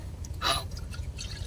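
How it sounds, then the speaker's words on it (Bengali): Water from boiled beef drains through a strainer in a village kitchen, a short wet pouring splash near the middle over a steady low rumble, then faint trickling. "এর ভিতরে আমি ঢেলে দেব, পানিটা যাতে ঝরে যায়।"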